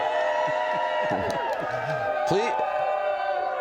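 A rally crowd in Pittsburgh cheers and whoops behind a speaker, a lively swell of voices with rising and falling shouts heard across the short stretch.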